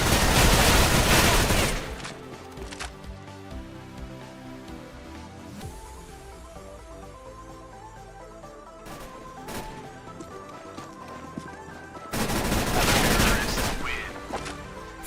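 MAC-10 submachine gun firing full-auto in CS:GO, loud rapid bursts of gunfire at the start and again near the end, with quieter game sounds and shuffling in between.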